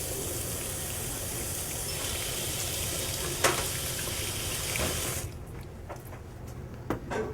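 Water pours steadily from a tap into a pot of watercress, herbs, black pepper and coriander for soup, a close gushing splash for about five seconds before it stops, followed by a few faint clinks.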